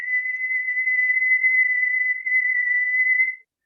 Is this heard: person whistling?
yes